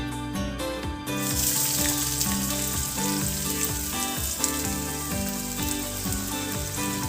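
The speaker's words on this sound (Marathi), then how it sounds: "तेल गरम झालं आहे। आता ह्याच्यामध्ये आपण कांदा टाकूया।" Onion dropped into hot oil in a pan, a dense crackling sizzle that bursts in suddenly after a quieter moment and then keeps going steadily, close and fairly loud.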